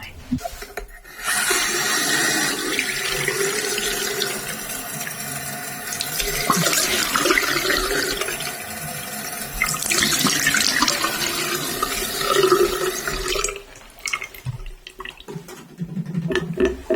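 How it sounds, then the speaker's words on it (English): Steady rush of running tap water splashing into a sink as a face is washed, with brief pauses and shifts as hands move through the stream, close by. "I am just going to wash my face."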